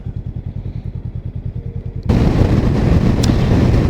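A rider's first motorcycle engine pulses with a steady rhythmic thrum, then a loud rush of wind and road noise swells over it as the bike speeds along.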